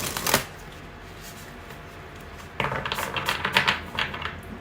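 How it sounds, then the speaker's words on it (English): Tarot cards are shuffled in short bursts of crisp riffling and flicking: one quick burst near the start, then a louder, busier run of card slaps and riffles in the second half, close up with no talking. "when I was shuffling the cards"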